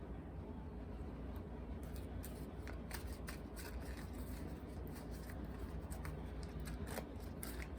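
Quiet, repeated riffling clicks of playing cards being shuffled over a steady background hum, in a few quick bursts.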